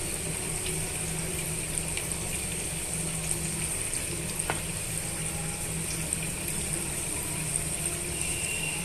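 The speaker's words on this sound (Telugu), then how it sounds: "ఇలా అన్నీ కూడా బ్రౌన్ కలర్ వచ్చేంత వరకు వేగనివ్వాలండి ఇలా టర్న్ చేసుకుంటూ వేయించుకోవాలి" Snack pieces deep-frying in hot oil until browned, a steady bubbling hiss running throughout at an even level, with no talking.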